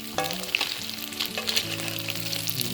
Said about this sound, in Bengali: এখন আমাদের চিকেন পকোড়া প্রায় ভাজা হয়ে গেছে